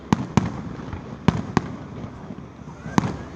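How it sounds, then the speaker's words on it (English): Fireworks at a July 4th grand finale pop in sharp separate bangs, five or six over a few seconds, against a steady crackling rumble and crowd murmur. "These fireworks are nice"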